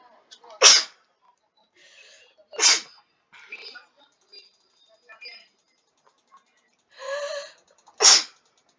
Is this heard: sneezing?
yes